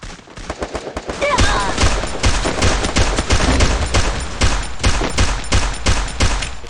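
Rapid bursts of gunfire from the Free Fire video game, with repeated sharp shots in a steady rhythm across the whole stretch, loud and close, while a faint voice shows up briefly.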